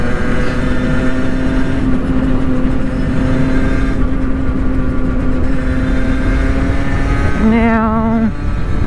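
Several motorcycles, including a Yamaha TZR 50 and a Kawasaki ER-6n 650, ride together on a road as a group outing. A steady engine drone runs throughout, with one bike revving up sharply near the end. Wind rushes past as they travel.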